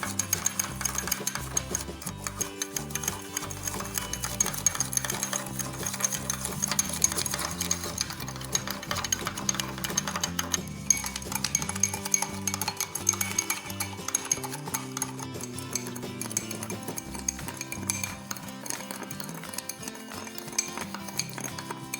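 Dalgona coffee mixture beaten until creamy, a steady, close whirring buzz that runs unbroken and fairly loud for the whole stretch, with no talking.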